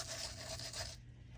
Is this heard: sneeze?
no